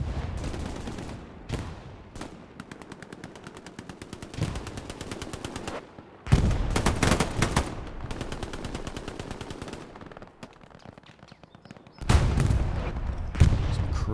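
Close-quarters firefight in Hell Let Loose during a competitive match on Sainte-Mère-Église: rapid machine-gun bursts and single rifle shots crack close by, with loud volleys breaking out again after brief lulls.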